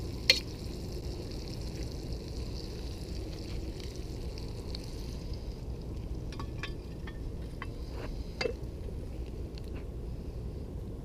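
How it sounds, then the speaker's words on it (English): Meat browning in a pie iron over a campfire gives a steady close sizzle and crackle throughout, with a few sharper pops and spits along the way and no talking. "You can hear it sizzling in there."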